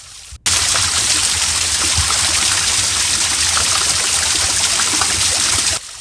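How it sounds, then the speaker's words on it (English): A winter waterfall spreading thinly across a broad sandstone wall and dropping in narrow ribbons onto rocks below, a steady, full rushing hiss that starts abruptly and holds evenly before cutting off near the end. "the water spreads thinly across a broad sandstone wall, breaking into multiple narrow ribbons as it drops onto the rocks below"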